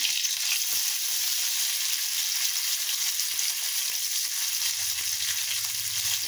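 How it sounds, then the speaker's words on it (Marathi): Chopped tomato goes into a hot frying pan, which gives a steady, close hiss of sizzling oil throughout, with faint low rustling near the end and no talking. "हा टोमॅटो घालायचा। एक छोटासा टोमॅटो चिरून घेतला आहे।"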